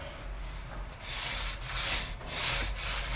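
A paint roller spreads a dull black non-reflective coating onto a part of a restored Lowell Observatory Clark telescope, giving a steady, close, soft rubbing swish that rises and falls in rhythmic strokes with no talk.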